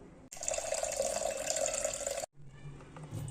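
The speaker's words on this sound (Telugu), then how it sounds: "పప్పుని వాష్ చేశాక" Tap water pours steadily into a vessel while toor dal lentils are washed in a kitchen, a close, even splashing rush that cuts off abruptly, followed by softer sloshing and clinks.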